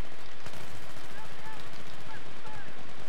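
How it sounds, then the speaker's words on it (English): Loud, dense automatic gunfire rattles in Battlefield 3 team deathmatch multiplayer on the Nashahr Canals map. Rapid shots and bursts crackle close and continuous through the whole moment. "where's that shooting coming from?"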